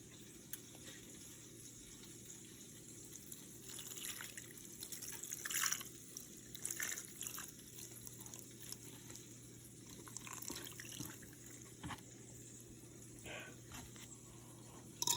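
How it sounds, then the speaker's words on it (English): Thick gravy mixture trickles onto burger patties in soft, irregular splashes, fairly quiet against a low background hum. "pour over the gravy mixture onto those patties"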